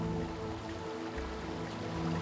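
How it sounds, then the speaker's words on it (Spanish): Steady rushing roar of the 40-metre waterfall at Chorros del Varal in Michoacán, a continuous broadband wash of falling water with no voices. "La vegetación y el sonido del agua atrapan la atención. Su caudalosa cascada mide 40 metros de altura y longitud."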